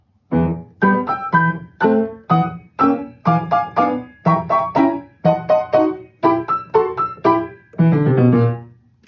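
A grand piano, played without pedal, gives short, detached staccato notes and chords in a steady rhythm, each cut off dry with no sustain between them.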